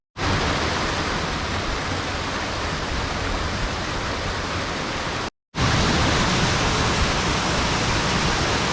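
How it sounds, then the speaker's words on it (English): A small waterfall cascades down a creek in a wilderness canyon, giving a loud, steady broadband rush that cuts out for a moment and then returns just as strong. "Nice little cascade here."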